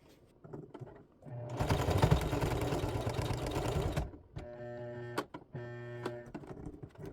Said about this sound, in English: I'm gonna see if it can sew down this thick part right here.